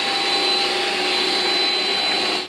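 On max setting, a Xiaomi Mijia Ultra-Thin robot vacuum cleaner roars with a loud, steady high-pitched suction whine, unbroken until it cuts off abruptly at the end.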